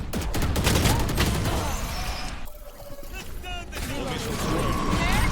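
Bursts of rapid gunfire crackle in Valorant, with mechanical clicks and effects between volleys, fairly quiet, under a little talking.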